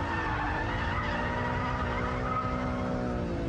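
A car drifting with its rear wheels sliding as the driver turns hard and picks up the throttle; a steady, loud engine roar with tyre scrub runs unbroken throughout, with no voices.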